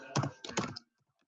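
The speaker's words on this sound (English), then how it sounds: "I just start typing it in" Fingers tap quickly on a computer keyboard, two short bursts of close, crisp keystrokes followed by silence.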